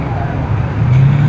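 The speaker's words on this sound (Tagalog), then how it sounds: "Traffic kasi yung lakas ng ulan dito sa bandang Paranaque." Road traffic moves along Roxas Boulevard in Manila, near Parañaque, during heavy rain: a close, loud, low motor drone from cars and larger vehicles that swells slightly toward the end.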